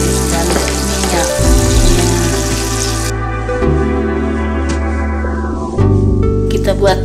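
Chillies and tomato frying in hot oil until wilted give a steady, close sizzle that runs throughout, layered with sustained tonal background sound and a brief stir near the middle.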